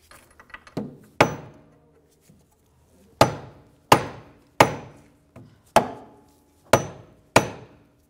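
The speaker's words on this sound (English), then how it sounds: "Just use a hammer." Hammer taps on a 2004-2009 Audi A4 Quattro rear upper control arm during a wheel bearing job, a few light knocks and then a series of about seven sharp metallic blows at a steady rhythm, close and loud with no talking.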